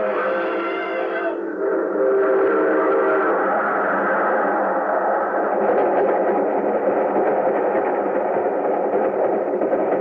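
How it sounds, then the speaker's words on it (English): An approaching train rumbles steadily in an old radio drama, a loud sustained roar with a whistle-like tone sounding at the start. "There's a train coming"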